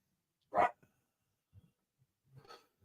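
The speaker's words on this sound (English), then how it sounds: "What's the dog barking at?" A dog barks indoors at a distance during a scale model car build, one sharp bark followed by fainter quieter yips and a second softer bark, otherwise near silence.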